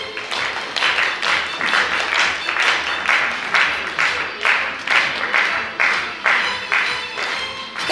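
Steady, dense audience applause for the winner of the Exotica category at the Miss Britans Ukraine 2013 bellydance pageant, loud and continuous with a slightly pulsing rhythm.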